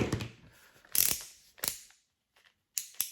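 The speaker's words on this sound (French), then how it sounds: "Donc on va serrer les axes." Ratcheting wrench or driver clicks while the axles are tightened on a Traxxas E-Maxx RC monster truck's front end; short bursts of mechanical clicking and rattling, close and fairly loud, separated by quiet gaps.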